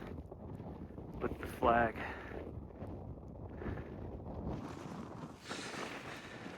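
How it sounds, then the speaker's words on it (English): Wind gusts roar steadily across an open frozen lake at an ice fishing setup, buffeting the microphone, while a person speaks briefly over the blustery noise. "Windy."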